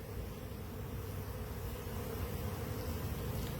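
Honey bees buzz at an open hive during beekeeping, a dense, steady swarm drone that stays loud and close throughout, with no voices.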